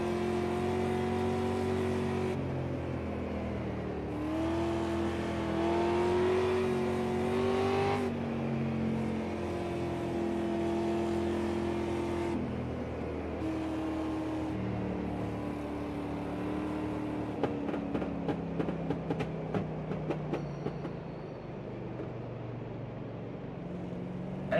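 Race car engines in the iRacing sim roar close and loud, the pitch climbing and dropping through gear changes for over twenty seconds, with a burst of rapid crackling pops near the end.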